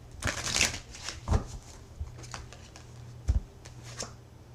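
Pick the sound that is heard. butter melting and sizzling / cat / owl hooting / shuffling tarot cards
shuffling tarot cards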